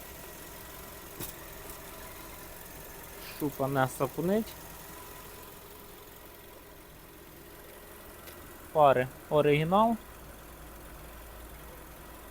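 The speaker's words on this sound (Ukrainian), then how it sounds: "Екологія на місці, двигун працює чітко, помилок немає" A Skoda Octavia car engine idles with a steady low hum throughout, while someone speaks briefly in two short bursts over it.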